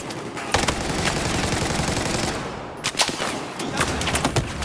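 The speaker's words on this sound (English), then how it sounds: "I have no idea where I'm getting shot from" Rapid automatic gunfire from Battlefield 4 multiplayer, loud and close, in dense continuous bursts with a brief gap before more shots crackle in.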